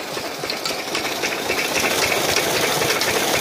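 A gas-powered engine drives a farm water pump outdoors, giving a steady, loud, rattling drone with a continuous hiss and no pauses.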